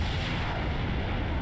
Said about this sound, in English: Wow, massive explosion.